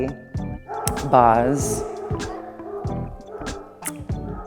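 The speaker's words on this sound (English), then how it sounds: "That dog has got a lot to say, more than I do." A pet dog barks and yelps in a short run of sharp, fairly close calls, with a person talking over and around the barking.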